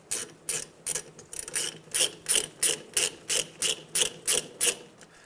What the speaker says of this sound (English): Just take these two bolts right out.